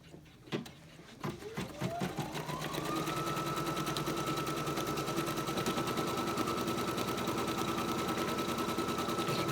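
An embroidery machine stitching a placement outline on a coaster in the hoop, starting with a few clunks, then spinning up into a steady, rapid mechanical whirring and needle rattle that continues close and alone.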